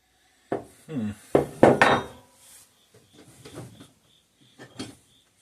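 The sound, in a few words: tapping chisel against seized air compressor pump cover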